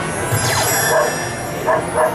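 A Dalmatian dog effect on a Magic Kingdom theme park ride: several short, loud barks and yips ring out in quick succession over a steady hum of ride machinery.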